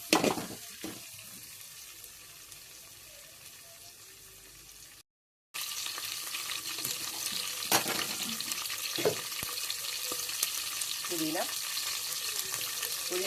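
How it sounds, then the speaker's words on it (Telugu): Oil sizzles and fries steadily in a pan while bagara rice is being made with basmati rice, mint and curry leaves; the crackle runs loud and continuous with brief stirring clatters and a short dropout partway. "మంచిగా నూనెలు వేగి ఒత్తిగా కావాలి"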